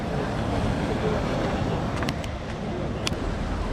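Evening sea waves at Palmanova beach, Mallorca, with boats bobbing nearby, form a constant broadband wash of surf noise mixed with wind, steady and fairly loud throughout, with a few faint sharp clicks.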